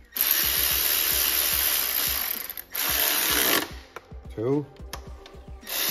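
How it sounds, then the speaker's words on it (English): Milwaukee power tool tightening bolts on a Mini Cooper during a turbo cartridge replacement, with loud, close, whirring runs broken by rapid clicking ratchet pulses, several short bursts separated by brief pauses, and a voice speaking briefly. "what I'm gonna do now is tighten those up with my Milwaukee."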